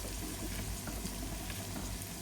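Onions and tomatoes sauté in a pan for mutton biryani, giving a steady, close sizzle with a low bubbling rumble that runs unbroken the whole time, with no voices over it.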